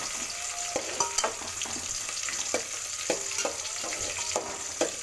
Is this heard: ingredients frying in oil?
yes